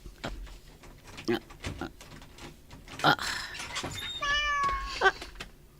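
A large cat meows several times indoors, with short calls among clicks and rustles and one longer, wavering meow near the end.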